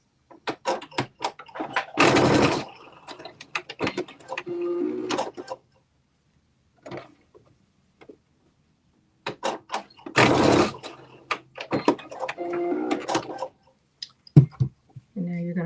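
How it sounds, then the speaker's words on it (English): A sewing machine stitches down a garment flap at a 5/8 inch seam allowance, running in two short, loud motor bursts with a voice talking between them. "you're going to stitch down that flap at those two dots at 5/8 of an inch seam"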